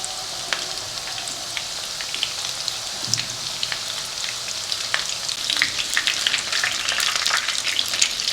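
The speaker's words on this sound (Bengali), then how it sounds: "এবার গরম তেলে চলে যাচ্ছে ম্যারিনেট করা আমাদের চিকেনগুলো।" Marinated chicken pieces for dry chilli chicken sizzle in hot oil with a continuous crackle and spit that grows busier and louder as the frying goes on.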